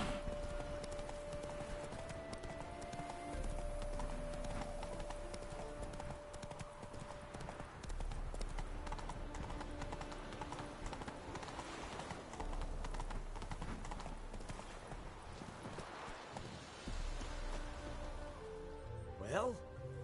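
Horse Roach's hooves clip-clop steadily through The Witcher 3 game world, a continuous rhythmic trot running the whole way beneath a bed of game music and ambient sound, with spoken dialogue from characters over it.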